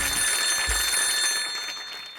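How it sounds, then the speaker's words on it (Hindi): A phone rings with a bright, sustained electronic bell tone that fades slightly toward the end, heard without voices. "संतोष, संतोष, अगर माँ का दूध पिया तो फोन उठा।"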